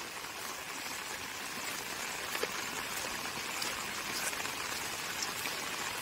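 Heavy monsoon rain pours steadily in the Konkan countryside, a dense, even hiss of drops and running water, close and continuous with no talk.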